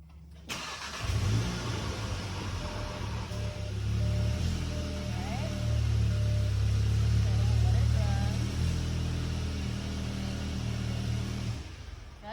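A 2019 Volkswagen GTI Rabbit Edition engine starts and settles into a steady idle, a close, continuous low hum with a slight rise in the middle before fading off.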